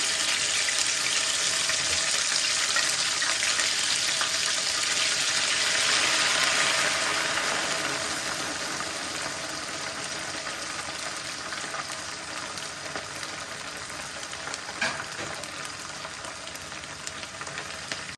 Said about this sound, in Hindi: अदरक और हरी मिर्च फ्राई हो चुकी है